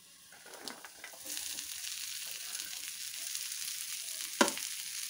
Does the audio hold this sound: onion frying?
yes